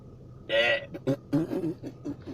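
A short comedic fart sound plays as a message notification alert, a single buzzy blast followed by a few brief sputtering blips, fairly loud and close.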